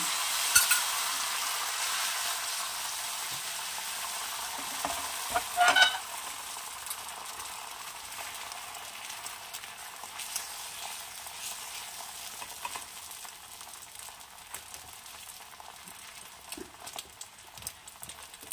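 An egg fries in a pan with a little oil, making a steady, bright sizzle close up for the whole stretch, with one brief clink partway through.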